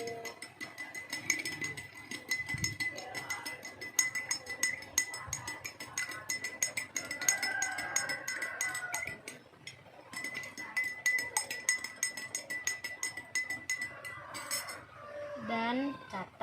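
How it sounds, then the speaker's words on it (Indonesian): A spoon stirs sugar into water in a glass, giving a rapid series of light clinks and taps against the glass, with a voice speaking now and then. "Lalu kita masukkan 2 sendok gula pasir ke dalam, lalu kita aduk"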